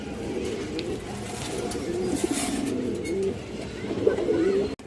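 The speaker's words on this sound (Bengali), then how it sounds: "খুবই চঞ্চল অনেক সুন্দর কবুতর" Pigeons coo softly in short, repeated phrases over a low, constant background hum, with a brief click near the end.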